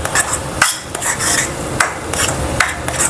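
A spoon stirs spices into chicken liver masala in a pan, giving repeated sharp metallic scrapes and clinks against the pan in an irregular rhythm, close and clear without any talking.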